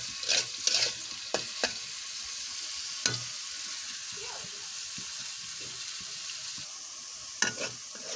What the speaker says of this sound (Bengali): পেঁয়াজটা লাল করে ফেলছি